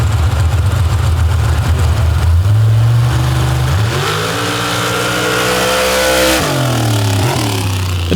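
A big blue Chevrolet stock drag car from Parkview, Iowa roars loudly off the line at the drag strip, its engine revving up through a long rising pull, a brief drop and then climbing again, continuous and close with no talk.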